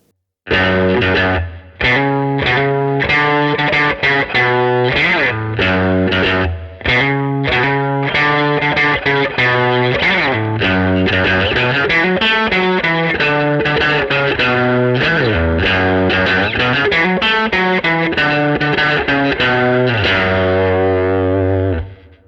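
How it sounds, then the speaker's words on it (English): A distorted Telecaster electric guitar plays a continuous rock riff with chugging low notes and bright sustained chords, loud and steady throughout. "So here's the final sound, which is kind of a rock guitar sound using a Tele."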